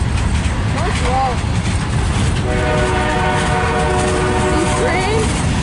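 A CSX freight train rumbles past close by, sounding a long multi-tone horn over the steady roar of rolling wagons, with voices talking briefly nearby.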